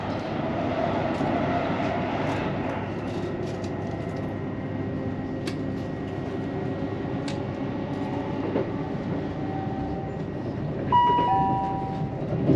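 Train running on the East Coast Main Line near Welwyn Garden City, heard from on board as a steady low rumble and hum, with faint tonal chimes and a brief beep near the end, with no talking.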